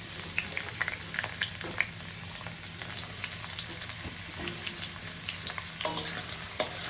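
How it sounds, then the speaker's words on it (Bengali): Potato peels fry in hot oil tempered with nigella seeds, giving a steady close sizzle with scattered crackles and a few sharper pops near the end. "এই দেখুন আলুর চোপা ভাজা এই যে একদম আলুর চোপা কালো জিরে ফোড়ন দিয়েছি দিয়ে চোপাগুলো দিয়ে দিচ্ছি"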